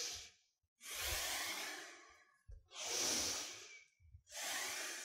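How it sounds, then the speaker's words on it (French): Deep yoga breathing during a studio workout routine, slow alternating inhales and exhales through the nose and mouth, close and soft, four long breaths separated by short pauses, with no talking. "Inspire en haut, expire en bas."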